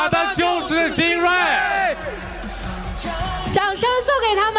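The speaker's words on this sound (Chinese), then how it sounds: "我想最后再带着大家一起喊一遍，我们打的就是精锐" A crowd shouts a team slogan together in unison on the finale stage of a Chinese competitive reality show, loud massed voices rising and falling in rhythmic chant-like bursts, with a few excited whoops near the end.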